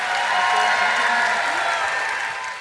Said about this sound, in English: will you join me in giving these wonderful physicians, therapists a big round of applause?